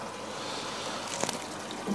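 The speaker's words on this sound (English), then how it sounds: "turn on the sump pump" A sump pump switches on and water runs through a DIY overhead aquarium sump filter, a steady faint trickle and gush of flowing liquid that holds fairly even throughout.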